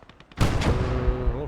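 A high-explosive shell fired in the WWII shooter Gates of Hell: Ostfront lands as one loud, sudden booming blast after a quiet moment, then a long rumbling decay.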